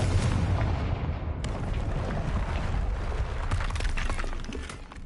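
A Confringo fire spell explodes in Hogwarts Legacy, a loud, dense, rumbling blast that stays heavy for several seconds before tapering off, with no talking.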